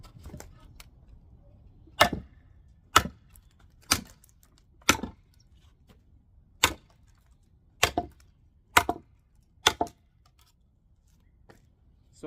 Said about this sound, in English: Not used to swinging such a long blade like this, but it does chop pretty good.